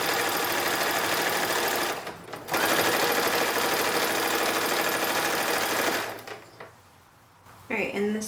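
Sewing machine hemming a small fabric ruffle for an 1860s–1870s style infant pillow, running steadily and loudly for about six seconds with a short pause near two seconds, then stopping before a brief handling noise at the end.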